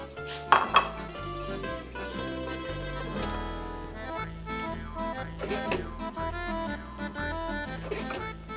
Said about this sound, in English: So we're just going to put some pasta in each